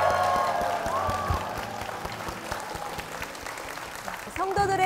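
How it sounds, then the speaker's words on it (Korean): A congregation applauds in a church service, the clapping moderate and fading slightly midway beneath a sustained musical tone, with a voice and music rising again near the end. "힘찬 박수 부탁드리겠습니다"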